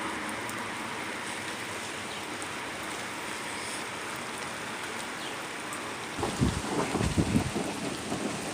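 Rain falls steadily through a quarantine-time storm, then deep thunder rumbles in at the end with several heavy, rolling booms over the constant wash of rain.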